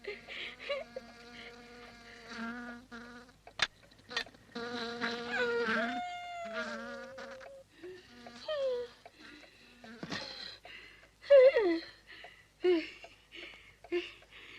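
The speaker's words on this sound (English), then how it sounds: "I've brought your bees. Oh, me bees, me lovely bees." Bees buzz softly close by in a 1958 film scene, while quiet voices and tones come and go over the faint drone.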